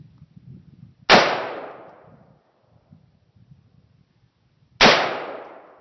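Two loud, sharp rifle bangs at a tannerite target, about four seconds apart. Each has a long ringing decay, with a faint low rumble and murmur in between.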